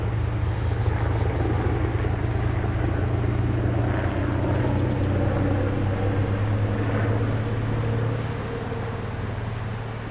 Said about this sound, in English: helicopter overhead somewhere